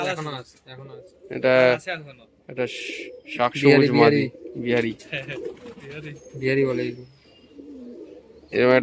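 Pigeons coo in soft, repeated throaty calls while a person talks nearby, the cooing mixing with the speech throughout.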